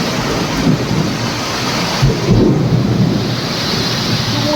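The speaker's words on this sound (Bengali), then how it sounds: "তুমুল আকারে ঝড় বৃষ্টি চালু হয়ে গেছে এই ইতিমধ্যে।" A heavy thunderstorm with torrential rain: a dense, steady roar of downpour with rumbling thunder swelling around the middle, loud and continuous, with no voices.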